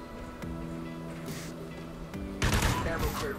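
Shotgun blasts in the shooter game Call of Duty: Ghosts, a few sharp separated shots followed by a louder burst of gunfire and chaotic action, with game tones and some voice in the background.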